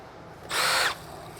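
A power drill whirs in one short, loud high-pitched burst of about half a second, set against quiet room background, while RV repair work is under way.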